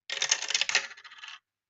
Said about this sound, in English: So we'll just use the same dice because we keep knocking it out.